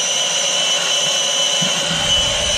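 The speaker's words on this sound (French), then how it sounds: "On met le tuyau au plus bas du moteur et puis ça pompe." A pump draws engine oil out through a hose lowered to the bottom of a boat engine, giving a steady, loud whine and hum that continues without a break.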